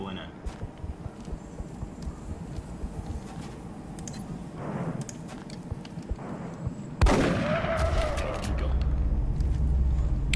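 Gunfire and explosive blasts from the XCOM Long War video game, heard as scattered shots early, then a loud booming burst about two-thirds through followed by a sustained rumble.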